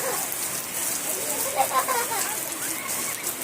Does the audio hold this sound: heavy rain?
yes